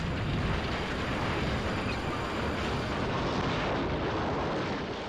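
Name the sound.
runaway train trucks smashing into a tower, crash effect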